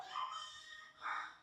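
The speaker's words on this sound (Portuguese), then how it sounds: "Não sei se vocês estão vendo meus cachorros aqui" Dogs give two short yelping barks, faint and somewhat distant, with a quiet pause between them and no talking.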